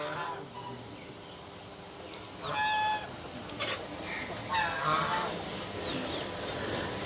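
Chickens outdoors among trees, in a setting of tomato growing and forest management, give a few brief, separate clucks and squawks against a quiet background hum of birds and insects.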